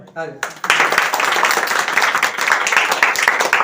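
After a brief voice, a group of people bursts into clapping together, a thick continuous wash of hand claps that holds steady and fairly close to the end.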